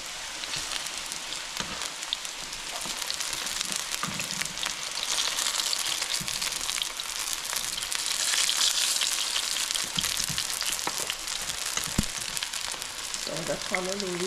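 Saltfish fritters fry steadily in a pan with a dense, close hiss of sizzling oil, broken by a few soft taps and scrapes as they are turned over.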